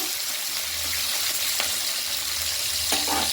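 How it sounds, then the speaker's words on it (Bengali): Onion, garlic, green chili and kalonji fry in a pan with a loud, steady sizzle, and a few short scrapes of stirring come through close by. "পেঁয়াজ, রসুন, কাঁচা লঙ্কা সব দিয়ে দিয়েছি। একটু ভেজে নেব।"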